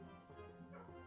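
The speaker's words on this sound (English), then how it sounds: "my dog is barking" Dog barking and whimpering nearby, short yips and bow-wow sounds over about a second, with some faint voice in the background.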